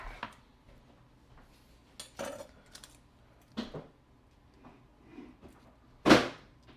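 A knife cutting vegetables on a board in a home kitchen: sparse, scattered chops and clinks at close range, with one louder knock near the end and no talk.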